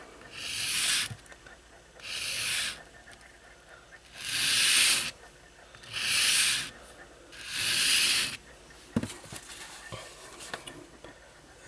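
A convex knife bevel is drawn in stropping strokes to apply a micro bevel, giving five distinct rubbing swipes in a steady rhythm, close and fairly loud, followed by a few faint clicks and handling noises.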